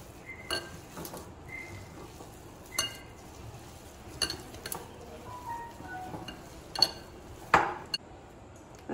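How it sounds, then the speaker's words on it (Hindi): A spoon clinks against a bowl while corn lollipop ingredients with cheese, king masala, black pepper, oregano and salt are mixed, giving sparse irregular taps and scrapes over a quiet background. "अब मैं सारी सामग्री को अच्छे से मिक्स करते हैं।"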